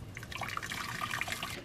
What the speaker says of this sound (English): Boiling hot water in here.